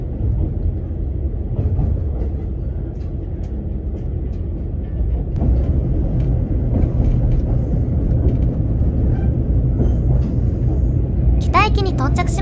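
JR Kyushu's Kanpachi Ichiroku sightseeing train running along the Mikuma River, a steady low rumble and rolling drone throughout, with a brief high chirp near the end.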